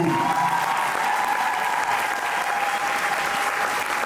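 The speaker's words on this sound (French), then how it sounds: "Faites un maximum d'applaudissements pour vous." Steady, dense applause from an audience at a slam poetry show, loud and continuous throughout with a faint tone running beneath it and no talking.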